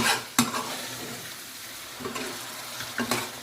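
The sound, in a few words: stirring base gravy into frying Madras curry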